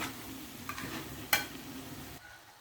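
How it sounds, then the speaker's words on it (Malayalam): Goat medicine reducing in coconut oil, stirred in a pan with a soft continuous sizzle, faint scraping and one brief sharp clink, heard close and quiet. "നമുക്ക് നന്നായിട്ട് ഇളക്കി ഒന്ന് വറ്റിച്ചെടുക്കാം"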